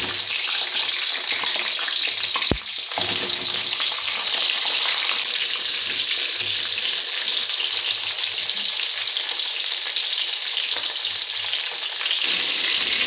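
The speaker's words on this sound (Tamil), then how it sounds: "கட் பண்ணி வச்ச கத்திரிக்காவை எண்ணெயில் போட்டு வதக்கிக்கலாம்." Cut eggplant frying in hot oil in a pan for a Tamil oil brinjal curry, a loud, steady hiss and sizzle that continues throughout, with a brief clatter near the start as the pieces go in.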